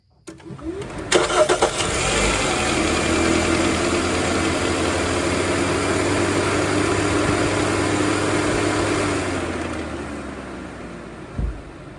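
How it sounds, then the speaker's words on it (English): A car engine cranks and catches, then settles into a steady, loud idle that runs for several seconds before a brief thump near the end. "let me go ahead and turn the engine on"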